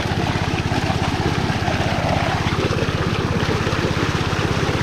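A small gasoline engine driving a 4-inch water pump runs steadily with a fast, even putter, close by, with a faint watery rush in the background and no talking.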